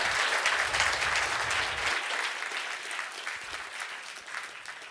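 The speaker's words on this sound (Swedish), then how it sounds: "Ge dem båda två en stor applåd." An audience at a Swedish business conference on economic growth gives sustained applause, a dense wash of many hands clapping that starts loud and gradually tapers off over several seconds, with no speech over it.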